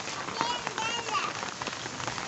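Rain falls steadily on an outdoor yard where pigeons, chickens and ducks are kept, a close, dense patter of drops striking surfaces, with brief voices in the background.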